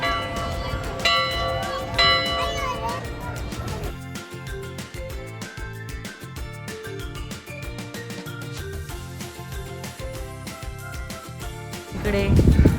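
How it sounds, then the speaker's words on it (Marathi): A large temple bell at a Vishnu-Lakshmi shrine rings with repeated metallic strikes and long, ringing overtones, fairly distant and layered with background voices and crowd noise, swelling louder at the very end. "इकडे एक मोठी घंटा आहे. त्याकडे आवडी वाजवते."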